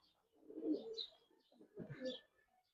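Two soft bursts of throaty pigeon cooing come from caged birds being sold, close and fairly quiet, separated by a short pause.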